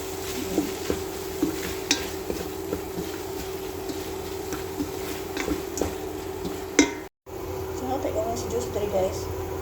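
Tomato and carrot frying in a pan, with steady close sizzling, scattered utensil stirring and clinks against the pan, and a brief dropout partway through.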